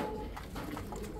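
Red Tiger Grizzle pigeons coo softly in a loft, a faint, low, brief murmur against steady background noise.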